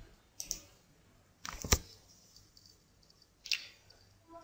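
Computer mouse clicks, three separate quiet clicks spaced over a few seconds in an otherwise silent room.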